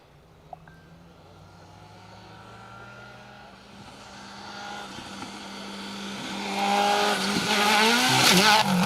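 Subaru Impreza rally car on a forest stage, engine note rising steadily as it approaches, growing loud and harsh with rising revs near the end, alone without talk.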